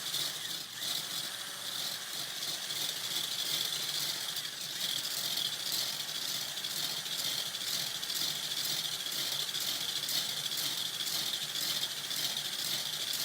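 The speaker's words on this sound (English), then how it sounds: "from this point, it is just whisking" Steady, continuous whisking of a sugar mixture for a pie, a dense rattling scrape that holds at an even level throughout with no pauses.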